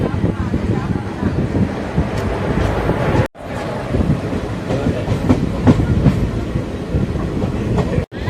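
A Madurai–Coimbatore passenger express train runs steadily on its rails with a continuous loud rumble, rattling wagon noise and wind buffeting, broken by two brief dropouts.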